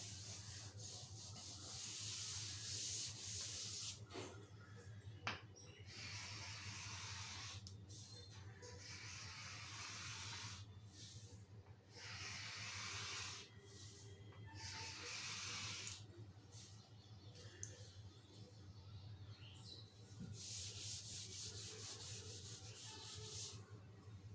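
Writing is rubbed off a board in repeated short scrubbing strokes, soft and close, over a steady low hum in a quiet classroom.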